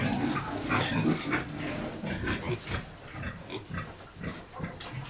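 A fat meat boar grunts and snuffles close by in a series of short, irregular bursts, some louder and rougher than others.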